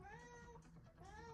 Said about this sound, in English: my cat is going to be meowing a lot